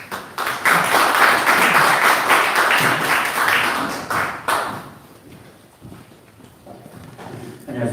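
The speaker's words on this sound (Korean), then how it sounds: "나오실 때 박수로 부탁드립니다." Audience applause in a church hall as a pastor comes up to the stage at a forum, dense clapping for about four seconds that thins and fades, with a few scattered claps returning near the end.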